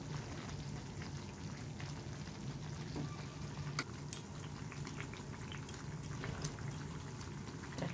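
Butter simmering in a pan while being cooked down into ghee, giving a steady, close bubbling crackle with scattered pops that runs without a break and with no voices.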